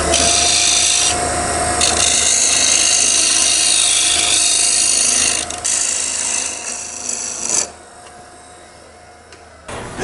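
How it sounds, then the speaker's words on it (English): Rough carving of a wooden carver's mallet handle spinning on a lathe, a loud, continuous rasping scrape of tool on wood that shifts in tone as the cut changes, then drops away near the end. "it's just a matter of carrying on and do all the final rough carving for the handle"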